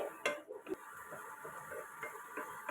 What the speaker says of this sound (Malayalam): ഇനി ഇതിലേക്ക് അരിഞ്ഞ് വെച്ച കിഴങ്ങ് കൊടുക്കാം എന്നിട്ട് നന്നായിട്ട് വഴറ്റി കൊടുക്കണേ